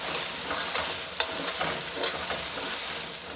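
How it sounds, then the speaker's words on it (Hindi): Ginger and garlic fry in a wok with a steady broadband sizzle, while a ladle scrapes and stirs in irregular strokes and one sharp clink stands out near the middle. The sound is close, with no voices. "आप चंगी तरह भुन लीजिए,"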